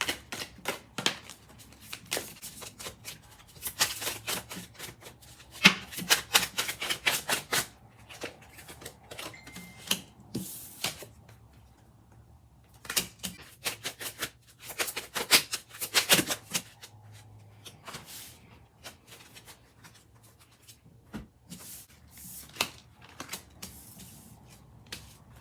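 Tarot cards being shuffled by hand for a reading, giving repeated bursts of crisp riffling and flicking in irregular clusters with quiet gaps between, fairly close and soft, with no talking.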